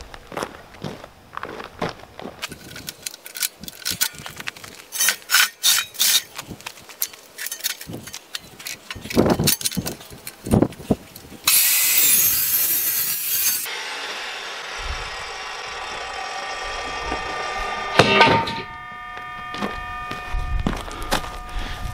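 A saw cuts through wood for building bee stands, heard as uneven rasping strokes and bumps, then a sustained loud harsh cutting passage and a ringing tonal whine near the end, with no talking.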